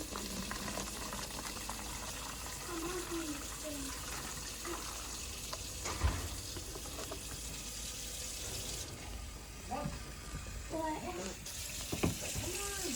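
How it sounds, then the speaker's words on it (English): Warm water pours into a container of yeast and sugar for a fermentation experiment, a continuous splashing trickle with a few knocks and clinks, while people talk quietly in the background. "We're adding the warm water to the yeast and sugar"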